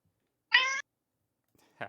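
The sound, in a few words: cat meowing in the room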